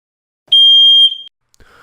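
A single piercing, high-pitched electronic water leak alarm tone sounds for about half a second, very loud and close, then cuts off.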